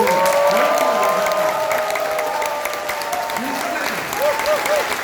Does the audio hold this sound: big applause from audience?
yes